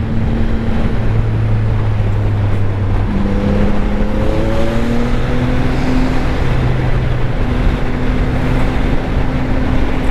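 CFMOTO 675NK motorcycle engine on an expressway, a loud continuous drone with shifting tones as it accelerates, heavily mixed with wind rush from riding.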